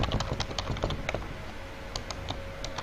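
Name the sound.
typing text on a computer keyboard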